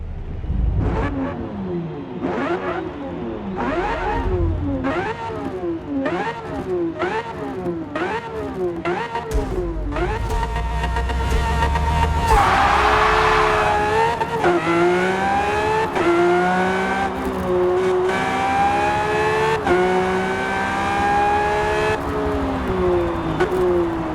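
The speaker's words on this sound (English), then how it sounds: "They've also updated the sound on the Lamborghini Sian." A Lamborghini Sian's high-revving engine in a Forza racing video game climbs through repeated gear shifts, rising and dropping in pitch, then sustains a loud wailing roar with no talking.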